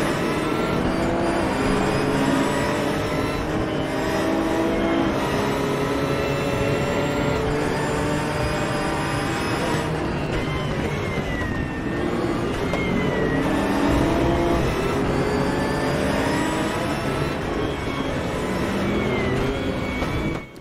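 Porsche GT3 race cars lapping the Nordschleife in the RaceRoom racing game, a pack of loud engines howling and revving continuously with shifting pitch as cars pass close by, no talk.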